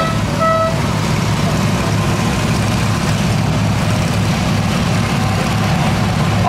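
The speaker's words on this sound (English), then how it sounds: "Followed by a beautiful Ford 100 garden tractor. This is built 1966, pulls 10 horsepower" A 1966 Ford 100 garden tractor with a 10-horsepower engine runs steadily and close by at an Illinois steam power show, a loud continuous low rumble with a brief tonal note near the start.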